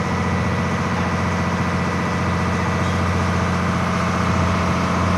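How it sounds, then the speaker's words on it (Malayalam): Wooden tourist boat on Kerala backwaters at Kavalam, its engine droning at a steady, loud idle-like hum with a constant low throb and no pauses, close by and without any voices. "നമ്മൾ പോകുന്ന ബോട്ട് പോലെ വേറൊരു ബോട്ട് ഓപ്പോസിറ്റ് സൈഡായിട്ട് വരിക"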